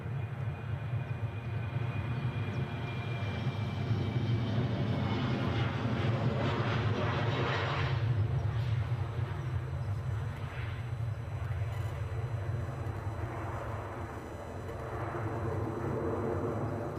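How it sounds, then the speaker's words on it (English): Embraer jet departing Edinburgh Airport: a steady, broad engine roar that swells slightly and then eases over about seventeen seconds, heard from a distance with a low rumble throughout. "that was actually an Embraer, so that will have been going to London City"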